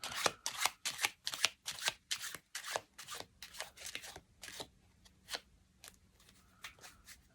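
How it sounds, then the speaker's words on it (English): Playing cards riffled and shuffled in a rapid series of crisp, papery bursts, close up, gradually thinning out toward the end. "You then shuffle the rest of the cards"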